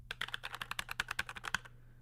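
Fingers typing quickly on a computer keyboard, a close run of crisp clicking keystrokes for under two seconds before stopping, over a faint steady hum.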